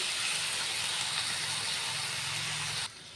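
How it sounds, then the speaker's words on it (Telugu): Tomato pieces and tamarind cooking in a pan, a dense steady hiss of sizzling that holds loud and even before cutting off abruptly near the end. "ఇప్పుడు ఈ టమాటా ముక్కలు కొంచెం చింతపండు వేసేస్తాను."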